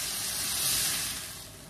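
Tomato sauce seasoned with Knorr Suiza and ground tomato coming to a boil in a pan, a steady close sizzling hiss that swells briefly and then eases, with no talking.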